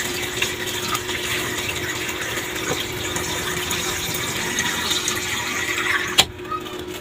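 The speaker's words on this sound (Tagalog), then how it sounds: "Para mas madali natin na ilagay yung tubig." Water being poured into a container to make large homemade ice blocks: a continuous running, splashing pour with a steady hum beneath, ending in a sharp knock near the end, with no talking.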